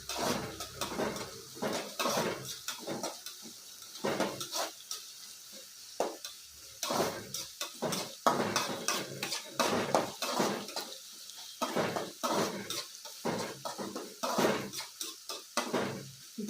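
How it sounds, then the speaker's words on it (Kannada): Potatoes, onion and spices frying in oil in a pan for dhaba-style aloo bhuna, with repeated clinks and scrapes of a utensil against the pan over a steady sizzle, close and fairly loud, no talking. "ಇವೆಲ್ಲ ಮೂರು ಇಂಗ್ರೀಡಿಯೆಂಟ್ಸು ಚೆನ್ನಾಗಿ ಎಣ್ಣೆಯಲ್ಲಿ ಚೆನ್ನಾಗಿ ಫ್ರೈ ಆಗಬೇಕು"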